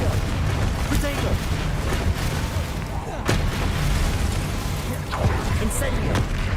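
Confringo fire-blast spell from the game Hogwarts Legacy, heard as a loud, rumbling explosive burst with a sharp crack in the middle of dense combat noise, under a player's voice.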